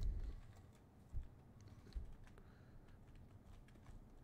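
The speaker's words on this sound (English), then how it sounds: "Let's see if I can do this without looking at the keyboard." Someone types on a computer keyboard, producing faint, irregular key clicks with a few louder taps, close and quiet with no talking.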